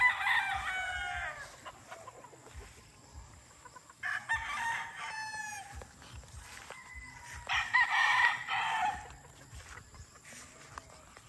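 Gamefowl roosters, including young breeding stock, crow in several long calls with clucking between them, fairly close and loud over a steady farmyard background.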